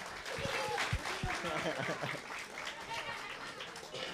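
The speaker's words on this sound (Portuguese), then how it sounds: "Uma salva de palmas para a nossa criançada que vem entrando na plenária" A seminar crowd of people affected by dams gives a round of applause as children enter the plenary hall, with dense steady clapping filling the whole stretch, some voices and cheers mixed in.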